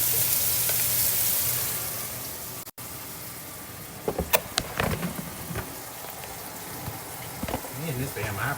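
Shrimp fry in a pan beside eggs for shrimp fried rice, giving a steady close sizzle. Bursts of scraping and clattering stirs run through the middle and end, and someone talks at times.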